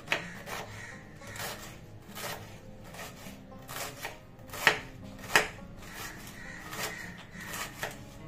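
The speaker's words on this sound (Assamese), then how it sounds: "একেবাৰে মিহি মিহিকৈ কাটি লৈছোঁ মই গোটেই বন্ধাকবিটো" Tender cabbage finely chopped on a board with a knife, a close series of crisp slicing thumps in an uneven rhythm, each followed by soft rustling, fairly quiet with no talking.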